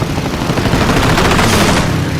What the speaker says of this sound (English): 1 Zero turns towards him, streaking in, cannons blazing